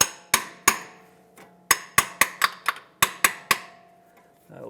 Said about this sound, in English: our tool doesn't look like it's seated all the way in flat, so we'll just give this a couple of taps